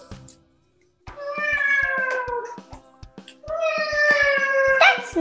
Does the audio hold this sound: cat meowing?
yes